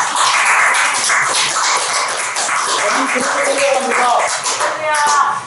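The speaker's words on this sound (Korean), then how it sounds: "하나님께 박수를 해보겠습니다" Church congregation clapping at a New Year thanksgiving service, a steady wash of applause lasting several seconds with a crowd murmur and voices underneath.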